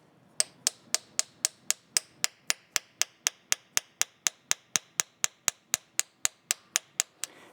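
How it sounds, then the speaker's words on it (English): A new axle seal on a Tacoma is driven in with a seal installer tool, about twenty-five sharp, evenly spaced hammer blows in steady rhythm, clear and close with no talking. "At this point, I can install the new seal, and I opted to get the seal installer."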